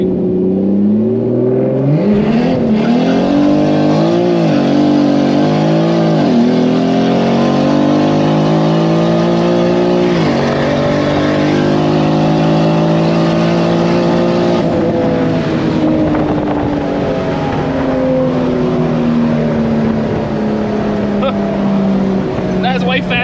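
A BMW E30 fitted with a 2JZ engine and DCT gearbox accelerates hard on a drag pull, loud engine roar climbing through several quick gear changes and then holding a long high-revving pull, heard from inside the car.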